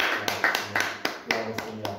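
A church congregation claps in acclamation, sharp claps landing in a steady beat about four times a second over soft sustained music.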